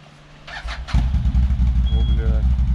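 A CFmoto X10 1000cc ATV kick-started: a brief cranking rush, then the engine catches and settles into a loud, steady, rumbling idle close by, with voices talking over it.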